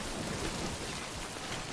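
Steady rain falls in the video game Death Stranding, a dense, even hiss of downpour with low rumbling underneath, continuous and unbroken throughout with no voices.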